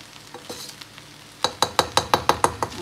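Vegetable biryani made with leftover rice is stirred in a pan: a few soft scrapes, then a quick regular run of about eight sharp spatula knocks against the metal, close and clear.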